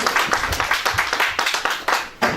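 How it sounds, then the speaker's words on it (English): At a report launch presentation, a small audience gives a short round of applause, with individual claps distinct and rhythmic, fairly close and moderately loud. "Can we give a big round of applause to all the three listeners?"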